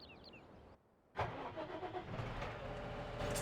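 A tractor engine in Farming Simulator 17 cranks after a short pause, then catches and settles into a close, steady mid-pitched idle that slowly builds; a brief game chime comes before it, and no one speaks.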